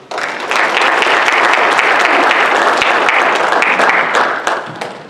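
An audience at a baseball coaching talk claps steadily for about four seconds to welcome the speaker, full and even applause that swells quickly and tapers at the end, with no voices over it.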